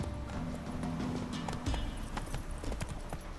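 Hooves of Roach the horse from The Witcher 3 thud and clatter in a quick irregular gallop, close and clear, with a brief snort mixed in over low game ambience.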